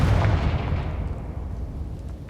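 A Confringo explosion spell detonates in the video game Hogwarts Legacy, a heavy booming blast that hits at once and then rumbles away as its low tail slowly fades.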